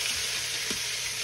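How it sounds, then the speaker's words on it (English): Oxtails searing in a hot pan, a steady close sizzle of fat throughout with a brief stir or turn partway through, no voices. "I just wanna get a good sear on them"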